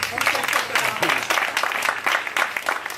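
Applause from a live audience at a Haitian artists' event rolls steadily for a few seconds, dense and close, with a voice speaking over the clapping.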